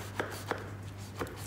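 A knife cuts a tray of traditional Greek baklava into diagonal pieces, giving three short crisp chopping crunches spaced irregularly over a low steady hum, close and fairly quiet.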